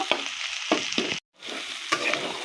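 Sliced bitter gourd frying until reddish-brown in an open pan, with a continuous close sizzle, spatula scrapes and a brief silent break midway; no voices.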